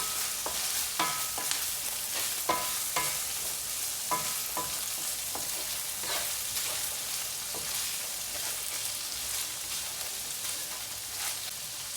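Tuna with chickpeas and sweet corn is stirred in a frying pan, a steady close sizzle broken by frequent scraping strokes and clicks of the spatula against the pan.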